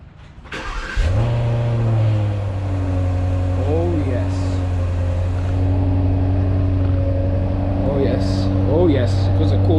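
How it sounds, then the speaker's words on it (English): A 2023 Range Rover Sport First Edition P530 V8 cold-starts with a sharp crank and catch, then settles into a loud, deep, steady idle with a few brief revs, close up and with no talk. "Oh yes, it was a cold start. I think a lovely sound."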